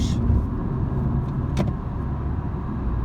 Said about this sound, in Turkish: düz bir yolda şöyle biraz yüklenelim gaz pedalını. Evet hemen vites yükseltiyor zaten araç